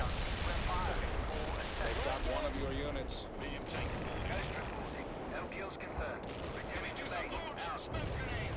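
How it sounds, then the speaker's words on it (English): An artillery barrage rumbles through the World in Conflict battlefield, rolling booms and heavy impacts overlapping in a continuous, thunderous roar with a voice talking over it. "I'm in my own artillery barrage"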